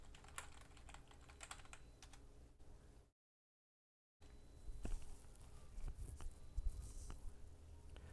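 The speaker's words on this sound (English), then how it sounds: "Actually, I can just type it in here." Someone types on a computer keyboard, producing quiet, close clicking keystrokes in irregular bursts. A short silent gap interrupts the typing midway before it resumes.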